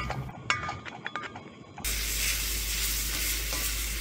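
Spiced beef dropped into a pan at a campsite, a few light clinks and handling sounds giving way to a sudden, steady loud sizzle of frying.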